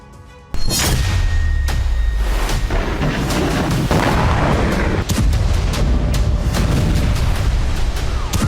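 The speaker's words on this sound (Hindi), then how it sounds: "हूती ने दागी मिसाइल, टारगेट यूएस इजराइल" Heavy artillery fire and missile strike explosions in a war zone, loud deep booms and sharp cracks that follow one another steadily over a continuous rumbling roar, with no voices.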